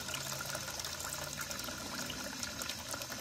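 A smart pet water fountain fills itself through an automatic float-switch valve: a steady, close rush and gurgle of running water, continuous and fairly loud throughout, with no talk.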